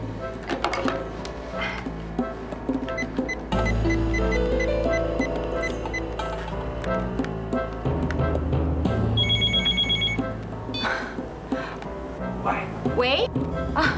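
A telephone rings during a call, its electronic ringtone repeating tones through the clip amid other music-like tonal sounds and household clatter, with speech mixed in.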